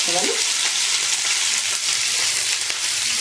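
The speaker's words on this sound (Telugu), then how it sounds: "ఆయిల్, ఉల్లిపాయలు వేసుకోవాలండి, పచ్చిమిరపకాయలు వేసుకోవాలి" Onions and green chillies frying in hot oil, a steady close hiss of sizzling with a few soft stirring scrapes, continuous over the whole stretch with no talking.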